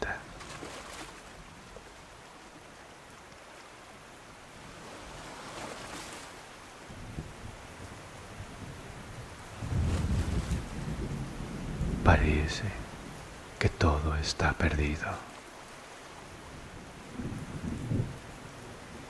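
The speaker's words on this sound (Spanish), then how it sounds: "Hay una gran tormenta." Heavy rain and a thunderstorm over an open ocean, a steady wash of rain with louder rumbling bursts of thunder in the second half, while a voice speaks calmly over it.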